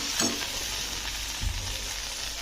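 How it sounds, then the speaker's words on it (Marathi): Turmeric sautéing in hot oil in a pan for a potato bhaji, a steady bright sizzle throughout with a couple of soft stirring knocks, close and alone with no talking. "त्यातलं थोडा कच्चेपणा जाईपर्यंत परतते"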